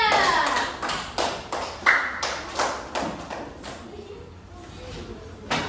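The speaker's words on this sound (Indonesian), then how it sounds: "Beri tepuk tangan untuk kelompok 3" Classmates in a classroom applaud group 3 with a short run of rhythmic, evenly spaced claps that start strong and fade over several seconds. The claps are close and slightly echoing, and no one speaks over them.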